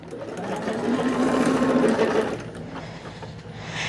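A sewing machine runs steadily for about two seconds, a dense mechanical whir of stitching that then slows and stops, leaving quiet room noise.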